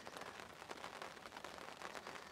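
Steady rain falling at a lake in England, a dense even patter of drops heard close and continuous, with no other sounds standing out.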